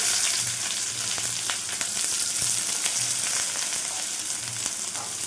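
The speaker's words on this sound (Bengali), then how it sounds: "দেখতেই পাচ্ছেন একদম গরম তেলে আমি দিচ্ছি।" Onions frying in very hot oil for chicken biryani, a dense steady sizzle with occasional stirring clicks, close and even throughout, no voices.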